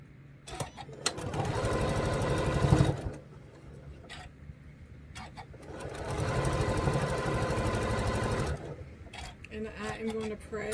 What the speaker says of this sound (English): And now we're going to sew those two together.